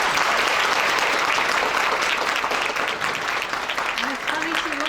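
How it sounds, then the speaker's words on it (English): Audience applause at the Stigma Free Atlantic Initiative launch, thanking Vicki for her hard work; steady, dense clapping fills the whole stretch, with a faint voice near the end. "So let's give her a round of applause."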